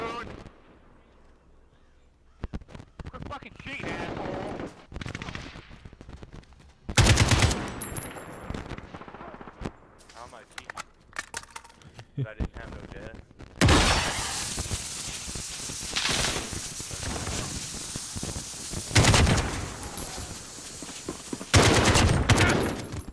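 Repeated gunfire bursts from an online match of Call of Duty Modern Warfare, loud and dense with sustained noisy stretches and sharp blasts, mixed with in-game talk and chatter throughout.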